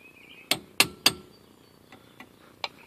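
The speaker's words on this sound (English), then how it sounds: "I'm just going to walk it off of there with a chisel under the lip." A chisel tapped under the lip of a grease cap on a 1967 Airstream Caravelle axle gives three sharp metallic knocks in quick succession, then a few fainter taps, close and clear in a quiet shop.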